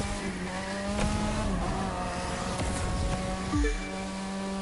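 Mazda RX-7 Spirit R FD rotary engine in The Crew 2, a sustained droning rev with a sharp drop near the end and faint tire squeal, loud and close.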